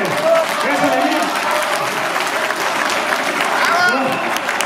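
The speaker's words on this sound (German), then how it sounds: "Applaus, bitte" Audience applause at a cattle show, a steady wash of clapping from a crowd with voices mixed in, holding even and loud for several seconds.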